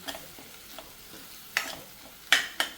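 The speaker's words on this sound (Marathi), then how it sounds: "तेलासोबत थोडे मसाले आता परतून घेते" Whole spices saute in oil as a quiet sizzle, punctuated by a few sharp, close clinks and scrapes of a spoon against the pan, the last three louder than the rest.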